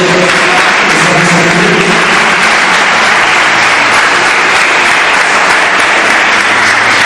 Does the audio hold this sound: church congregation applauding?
yes